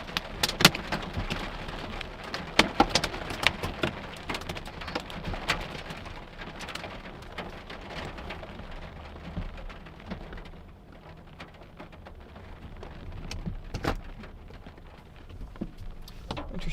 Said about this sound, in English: Now I got a couple rogue hailstones falling.